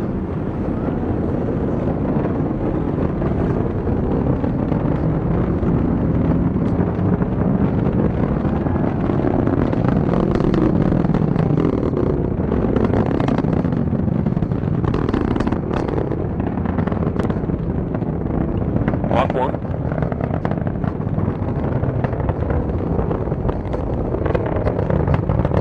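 Rocket engines of the TDRS-K launch vehicle in flight, a continuous deep rumbling roar that holds steady and powerful without a break, with a faint crackle riding on top.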